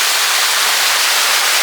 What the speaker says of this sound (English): a beautiful little waterfall